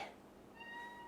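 A quiet cat meow, a short thin drawn-out call in a calm indoor room, no talking.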